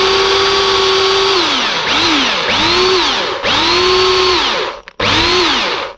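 Electric drill enlarging holes in metal brackets for a Massey Ferguson tractor cab: loud, close motor whine in repeated bursts, each spinning up and then dropping in pitch as the bit bites and releases.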